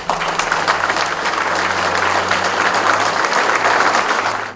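Loud, dense applause from a hall audience at the carp fishing championship finals, many hands clapping steadily throughout with a low background hum.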